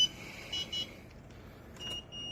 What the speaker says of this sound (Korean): 값 이상 됐을 때 저렇게 이제 점검 상태가 나오고 부저가 울리는 것을 알 수 있습니다